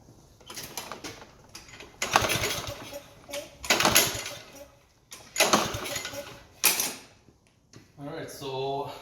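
A Troy-Bilt TB330 lawn mower with a Briggs 190cc engine, its air filter removed, tries to run, giving several loud sputtering bursts that surge and fade.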